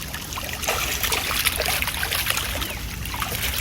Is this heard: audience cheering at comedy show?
no